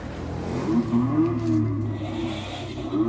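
A Mercedes G65 AMG 12V ride-on toy jeep driving forward on its electric motor, a low steady whirring hum with a faint rising whine, close by.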